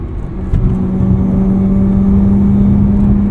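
A 2009 Mazda RX-8's rotary engine revving past 5,000 RPM, a loud steady high-pitched whir with a firm rumble underneath, heard close and continuous from inside the car.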